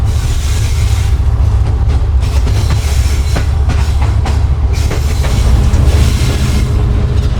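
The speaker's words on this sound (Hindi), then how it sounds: "हमारी ट्रेन यहाँ से राइट कर लेते हुए निकल जाएगी आगे" Passenger train of the Pak Business Express rolling along the tracks, with a steady, loud low rumble and rhythmic clickety-clack of the wheels over rail joints throughout, recorded from on board.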